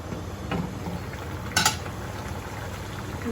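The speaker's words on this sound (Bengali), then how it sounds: "একটু চামচটা ঢুকিয়ে নিচটা একটু ছাড়িয়ে দিই" A spoon scrapes briefly across the bottom of a cooking pot holding boal fish with potatoes and snake gourd, one short metallic scrape over a steady background hiss, with no talking.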